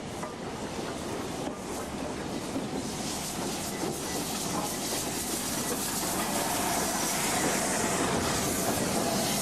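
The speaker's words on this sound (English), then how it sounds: "witnessed the return of steam to this section of main line" A steam train runs along the former Great Central main line, giving a loud, continuous broadband roar with hissing steam and faint rail clatter that holds steady and swells slightly toward the end, with no voices.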